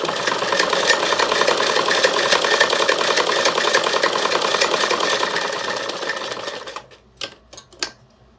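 A sewing machine stitches a dart in a suit, running in a fast, even mechanical patter for several seconds before stopping, followed by a few isolated clicks and taps.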